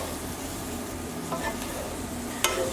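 Ingredients get stirred together in a frying pan over a steady, faint sizzle, with a couple of light scraping touches and one sharper clink near the end.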